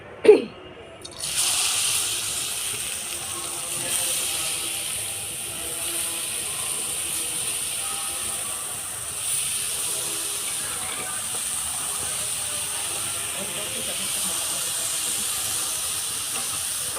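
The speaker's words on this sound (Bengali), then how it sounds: "গরম হয়ে গেছে এবার গাজরটা দিয়ে দেবো" Carrot goes into a hot pan with a sharp initial splash, then a loud, steady frying sizzle continues unbroken for the rest of the clip.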